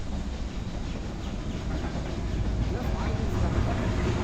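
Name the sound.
train passing by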